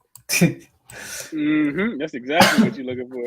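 A single sharp sneeze bursts out near the start during a sports betting talk show, followed by someone speaking continuously.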